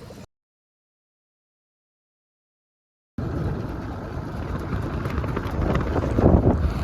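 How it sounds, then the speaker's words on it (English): Strong wind gusting on a sailboat deck after a snapped backstay wire, heard as loud steady buffeting roar that starts abruptly after a brief gap of silence and builds slightly toward the end. "It's a really windy day right now."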